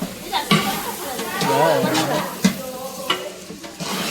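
Masala paste of roasted onion and roasted coconut frying and being stirred in a pan, with a steady sizzle and scraping stir strokes, and people chattering over it.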